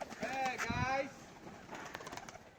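Soft cooing close by from old-bloodline yellow-eyed Rajshahi pigeons, a few throaty calls at the start, then quieter rustling and faint sounds in a calm space.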